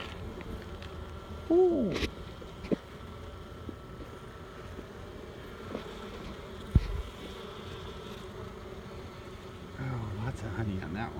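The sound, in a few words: honeybees buzzing at an open beehive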